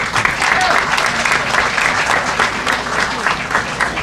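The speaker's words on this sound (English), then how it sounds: "Give him a round of applause" A crowd at a groundbreaking ceremony for Town Square at Suitland Federal Center breaks into loud, sustained applause, a dense wash of clapping that holds steady throughout with faint voices mixed in.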